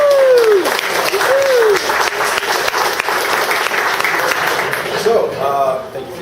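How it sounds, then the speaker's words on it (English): An audience applauds the Cloudant founder introduced before a talk on big data applications on the cloud, with steady loud clapping for several seconds and a few voices heard over it before it fades out. "We give a great round of applause for Alan Hoffman"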